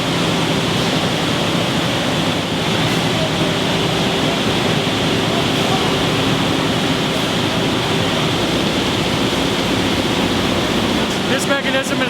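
Water rushes steadily through a blueberry washing machine that cleans wild Maine blueberries, a loud, even, continuous wash of noise with no breaks and a few faint mechanical clicks near the end.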